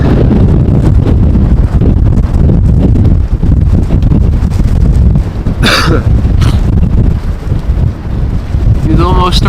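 Strong storm wind roars and buffets the microphone at Amsterdam Schiphol airport, a loud, steady rush that gusts unevenly throughout, with a few faint coughs or voice sounds near the end.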